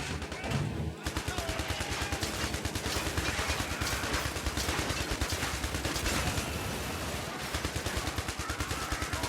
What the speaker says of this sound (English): And then we're going to gun down these guys up here.